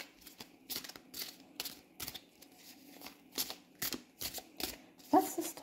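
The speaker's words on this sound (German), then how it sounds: "lass uns nicht lange warten und die Karten mischen" Tarot cards being shuffled by hand, a repeated riffling flutter in quick bursts with short pauses between, close and fairly soft with no talk.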